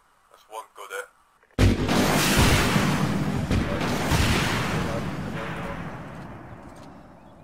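Gunfire and a heavy blast ring out in the ArmA 3 military shooter. A few short pops come first, then a loud close boom that rolls off into a long fading rumble.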